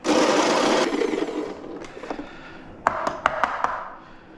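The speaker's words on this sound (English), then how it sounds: "So I'm going to take this to a 15 on my Baritza, and we're going to see how that grind goes in here." A Baratza burr coffee grinder set to 15 grinds coffee beans with a loud, steady motor whir for under a second, then fades, followed by several sharp close taps and clicks.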